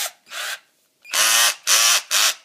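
Cordless drill driving a screw into timber with its clutch slipping once torque is reached: a short burst, pause, then three sharp ratcheting bursts in quick succession, close and loud, no talking.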